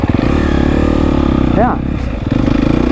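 A GasGas EX250F dirt bike engine idles loud and close with a steady rapid thumping beat, briefly dipping once, while someone talks over it.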